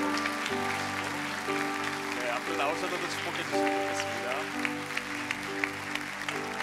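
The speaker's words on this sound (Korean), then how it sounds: "박수." Church congregation applauding after a baptism service, a steady patter of clapping running under a voice and sustained organ-like musical tones.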